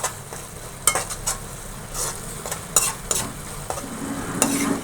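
Chopped onions sizzle and fry in a pan for a fish curry while a utensil stirs them, with close, repeated scraping strokes over a steady hiss and no talking.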